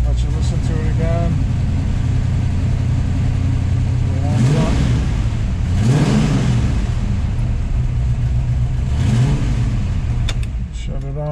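A loud 440 V8 engine in a 1971 Dodge Challenger R/T idles close by and is revved several times, each rev rising and falling back to a rough rumble.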